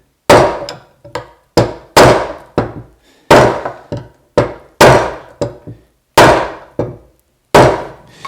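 A hammer knocks a wheel bearing into a velomobile's front wheel hub with about a dozen sharp, close, loud blows in an uneven rhythm, working around the bearing's circle.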